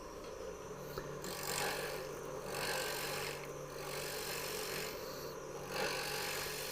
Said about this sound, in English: I'm going to true this up, true the face of it up, and then we'll just kind of clean it up real quick